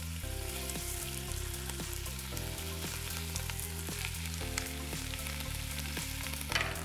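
Meat sizzles and crackles steadily in hot oil in a large pot for goulash, a constant close frying hiss under a repeating low tonal backdrop.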